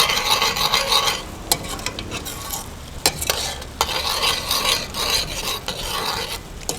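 Mutton sukka with fried onions and tomatoes is stirred and scraped in a pan over a steady sizzle. Repeated close, rasping strokes and a few sharp clacks of the spoon against the pan run throughout.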